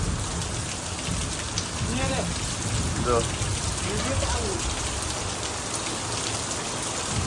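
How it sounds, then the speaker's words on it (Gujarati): Heavy rain pours down in a steady, dense hiss close by, with someone briefly speaking partway through. "વરસાદ પડે જબરજસ્ત"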